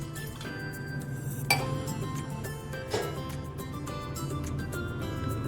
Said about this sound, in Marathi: इथे प्लेट उलटी ठेवतीये